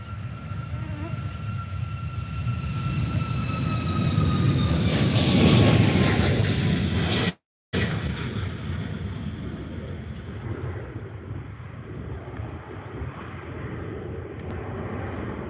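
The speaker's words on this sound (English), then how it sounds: "So here goes now the Ryanair 737 MAX" A Ryanair Boeing 737 MAX taking off at Faro Airport: a loud, close jet engine roar with rising whine that swells to a peak, then a steady broad rumble fading slowly as the plane climbs away.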